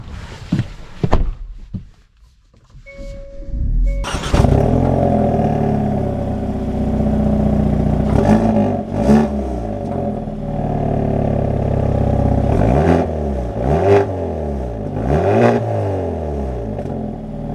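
A 2024 Hyundai Elantra N engine starts with a short burst, then settles into a loud, close idle broken by several sharp throttle blips that rise and fall in pitch.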